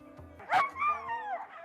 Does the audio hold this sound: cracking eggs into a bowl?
no